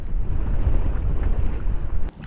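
Strong gusty wind roars across the microphone on a fishing boat, a dense steady rush that cuts off abruptly near the end.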